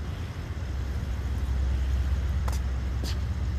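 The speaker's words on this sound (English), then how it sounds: "I think that's the streetcar. I heard something." A streetcar passes with a steady low rumble and two brief metallic squeals partway through; no voices.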